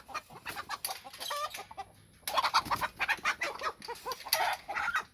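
Roosters and hens cluck and squawk close by in a backyard pen as a new Australorp hen is set among them, with bursts of excited calls, a short lull, then a louder round of clucking.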